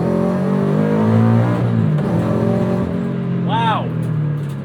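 A supercharged 2013 Scion FR-S engine with an HKS centrifugal supercharger revs loud and close, the pitch rising and falling with a brief whine near the end, while a person talks over it.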